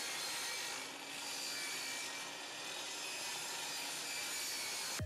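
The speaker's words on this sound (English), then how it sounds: "It's going to be cut from 1/2-inch plywood" A sheet of 1/2-inch plywood being sawn, a steady, continuous rasping cut that holds at an even level for several seconds with no voices.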